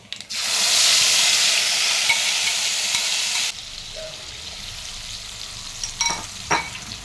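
Nigella seeds and spice paste sizzle loudly in hot oil, a dense crackling hiss that suddenly drops to a softer simmer, with a few faint clinks.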